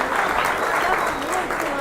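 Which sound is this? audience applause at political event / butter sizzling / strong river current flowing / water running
audience applause at political event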